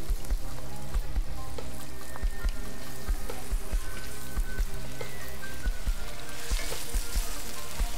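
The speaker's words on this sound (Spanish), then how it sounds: "Vamos a hacer un pequeño sofrito," A small sofrito of garlic, onion and saffron frying in oil, a loud, dense, continuous crackling sizzle with steady spitting pops throughout and no one speaking.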